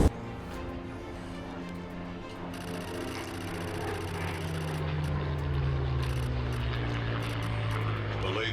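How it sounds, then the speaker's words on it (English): A Mark 9 Spitfire flies past at an air show, its propeller engine droning and swelling as it nears, with a low throbbing hum rising in pitch. Crowd and commentary noise sit underneath. "That is the last pass there for the Mark 9 Spitfire"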